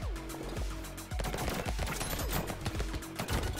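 Rapid SMG gunfire from the video game Brotato, a dense stream of quick shots layered over a game soundtrack, growing louder after the first second with constant pops and impacts.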